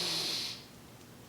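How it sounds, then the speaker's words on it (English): A short, breathy inhale is drawn in hard through the nose or mouth before a heavy squat, loud for about half a second and then fading to quiet. "I'm gonna do my inhale and then push my viscera down."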